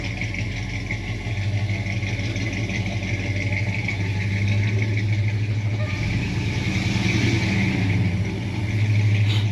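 A 1968 Ford F250 Ranger pickup truck engine hums steadily close by, its low rumble rising slightly as it picks up speed, with no voices over it.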